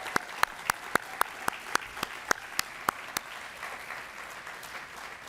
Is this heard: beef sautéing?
no